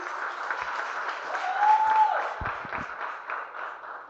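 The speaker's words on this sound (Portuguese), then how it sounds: "E dê um aplauso para selar essa palavra." A church congregation gives a sustained round of applause, a dense wash of clapping that swells in the middle, with a few low thumps partway through.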